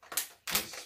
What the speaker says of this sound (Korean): 다시 지퍼를 닫아주세요.